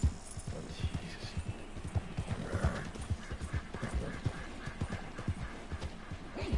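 Horse galloping in Red Dead Online, with steady rapid hoofbeats pounding throughout and a whinny rising partway through, fairly loud and close with no talking.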